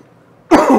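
A single sharp cough from someone recovering from a respiratory infection bursts out after a near-silent pause, loud and close, with a rough, breathy tail.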